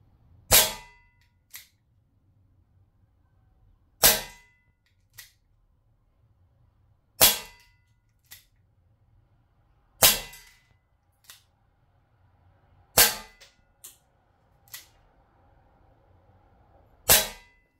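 Air gun firing pellets, seven sharp shots spaced a few seconds apart, each followed by a faint impact snap, with quiet pauses between.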